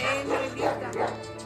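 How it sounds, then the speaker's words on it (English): A panicked dog caught in curtains yelps and whimpers in a quick series of high, strained cries, close and fairly loud, with a faint voice beneath. "This poor dog somehow got stuck in the curtains, and it was panicking pretty badly"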